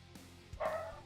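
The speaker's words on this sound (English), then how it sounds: "dog noises." A single short dog bark or yip rings out close by, a sharp bright burst near the end after a quieter lead-in in a room.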